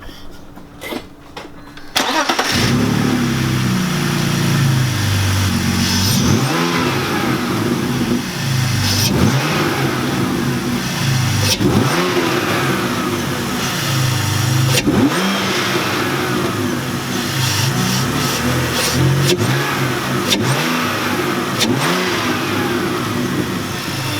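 A BMW E46 engine with a newly installed carbon fiber intake cranks and fires up for the first time, then settles into a loud rumbling idle broken by several sharp revs that rise and fall.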